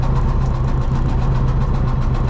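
A Lambro three-wheeler's small engine idles steadily right after starting, a loud, close, rough low rumble with even pulsing and no talk.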